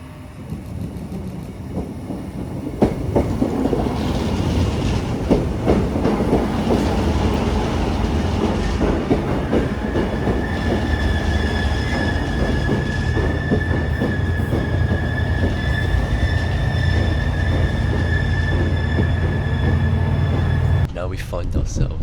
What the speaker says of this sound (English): We find ourselves on probably the noisiest train in London.